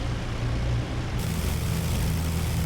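Avro Lancaster bomber engines idle while taxiing, a steady, loud, low propeller-engine drone that holds level throughout with no voices.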